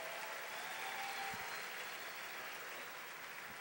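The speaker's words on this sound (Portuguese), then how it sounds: "Aplauda bem forte ao Senhor." A church congregation applauding loudly and steadily, a dense wash of clapping that holds at an even level throughout with no pauses.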